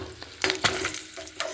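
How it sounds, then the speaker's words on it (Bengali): Eggs frying in oil with turmeric and salt for a village-style brinjal curry, close sizzling broken by a few sharp spatula scrapes and stirs over a brief stretch. "একটু হলুদ আর একটু লবণ দিয়ে ডিমটা ভেজে নিচ্ছি"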